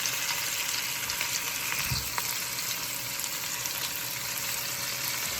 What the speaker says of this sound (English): when you drop everything in the oil